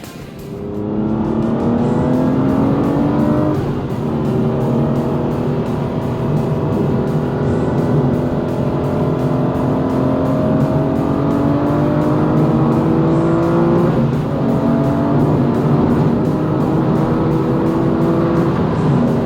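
Several Aston Martin cars drive together, engines droning steadily with rising and falling revs as they accelerate and shift, heard continuously from inside or close by.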